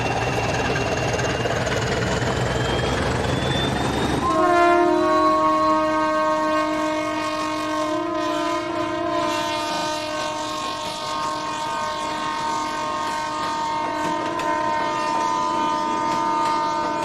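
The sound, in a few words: Portuguese diesel locomotive 1411 departing Tua with train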